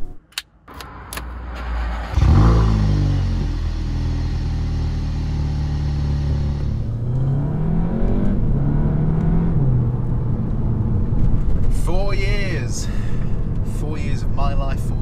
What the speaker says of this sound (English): Let's get moving and go for a final drive.